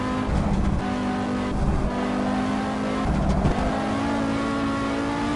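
Race car engine in the Assetto Corsa racing game, droning loud and steady with revs rising and falling through several throttle pushes, close and continuous with no talk.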